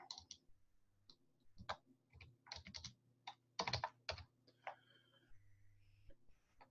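Code is typed on a computer keyboard in short, irregular bursts of crisp, close key clicks with brief pauses, heard alone without talk.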